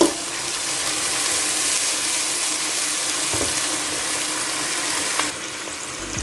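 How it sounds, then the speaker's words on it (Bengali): Water is poured into a pan of cooking beef tripe, a steady rushing hiss of pouring and bubbling that stays loud, then ends with a brief clatter near the close. "এবারে আমি পানি অ্যাড করছি"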